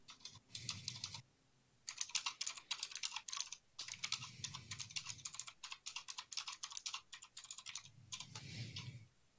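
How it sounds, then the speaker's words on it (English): Fingers type on a computer keyboard in three rapid bursts of sharp clicks, separated by brief pauses, close and clear with low background rumble and no speech. "What you typing?"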